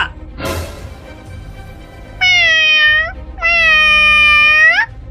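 A cartoon cat meows twice, loud and drawn out, with a short gap between the calls, after a brief knock at the start.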